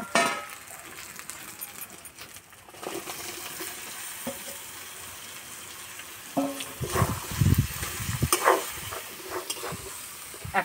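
Ridge gourd stirred and fried with spices in a pan, a steady sizzle under scraping stir strokes that grow louder and clatter near the end, with no talk.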